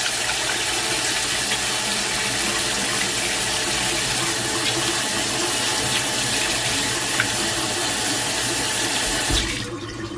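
Water runs steadily from a kitchen sink tap, a continuous close splashing rush that cuts off near the end.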